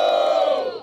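A crowd at a Brazilian street rap battle roars in a loud, sustained burst of cheering and shouting that swells and then fades quickly, close and alone with no talk over it.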